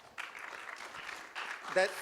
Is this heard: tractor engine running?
no